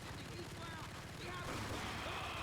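Rapid, dense gunfire crackles continuously in a Max Payne game scene, steady and fairly loud, with a voice talking faintly underneath.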